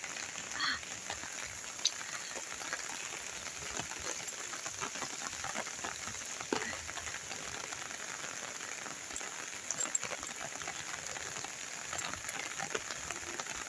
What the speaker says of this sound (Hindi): बारिश का मौसम है, बारिश हो रही है